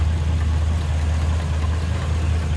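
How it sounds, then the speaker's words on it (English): A 1951 Mercury coupe's stock flathead V8 with dual carburetors idles smoothly and steadily, a close, low, even rumble with no talk over it. "See how smooth that flathead runs."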